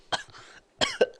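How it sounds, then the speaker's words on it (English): Two harsh, close coughs from a man, the first followed by a brief rasp and the second a quick double burst, set in near silence. "I think I got a kennel cough."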